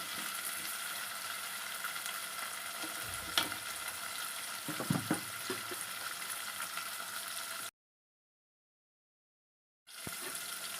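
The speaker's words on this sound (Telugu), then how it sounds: "నూనె టమాటాలు ఇలా మెత్తగా వేగాలి" Tomatoes frying in oil until soft: a steady close sizzle with occasional stirring clinks and bubbling, broken by a sudden silent gap before the sizzle returns.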